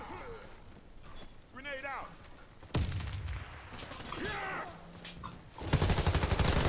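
Gunfire in the Warface video game comes as short bursts of shots, with a sharp volley near the middle and another near the end, while someone talks excitedly over the action.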